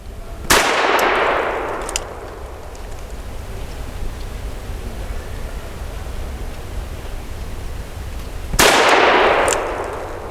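A Diamondback Sidekick revolver fires two .22 Magnum rounds, 40-grain Speer Gold Dot, outdoors: two sharp, loud cracks about eight seconds apart, each followed by a short decaying ring, with a quiet outdoor hush between them and no talking.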